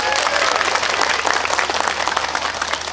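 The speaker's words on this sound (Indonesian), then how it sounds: "Tepuk tangan untuk muslimat" Dense audience applause fills an anniversary celebration of a Muslim women's association in Kebonsari, Probolinggo. The clapping is loud and steady and runs throughout.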